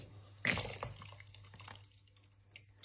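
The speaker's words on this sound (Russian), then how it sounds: "Вот сливок наливаете." Cream is poured into a pot of Norwegian fish soup with cooked potatoes. A quiet pour starts with a brief splash and then thins into a soft trickle and drips.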